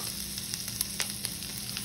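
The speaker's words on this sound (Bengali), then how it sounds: "রসুনটা দিয়ে ভাজা ভাজা হয়ে যাবে" Garlic sizzling in a pan for paneer posto, a steady soft frying hiss with a few faint crackles and no voices.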